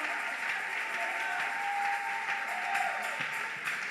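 A church congregation applauding the Lord during worship, a steady wash of many hands clapping together with a sustained tone ringing underneath, no break in the sound throughout.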